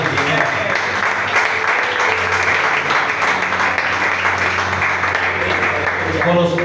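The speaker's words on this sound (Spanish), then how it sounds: "Denle fuerte aplauso al Señor." Congregation applause during a Spanish-language church sermon, a sustained wash of clapping with a musical tone and voices running underneath throughout.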